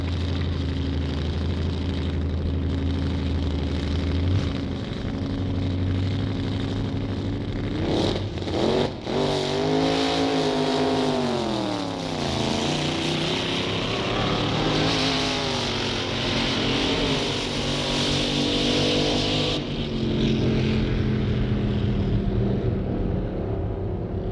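An AA dragster roars off the line at a 1962 drag race: loud engine idle gives way to a rising, wavering rev and a sustained high-pitched roar before cutting off abruptly, with no voices.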